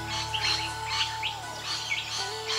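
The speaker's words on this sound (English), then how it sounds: "the high-pitched sounds, the tireless search for food and their abundance, make the rainbow lorikeet unique" Rainbow lorikeets in Australian woodland giving repeated shrill, high-pitched chirping calls in quick bursts, fairly close, over a low steady hum.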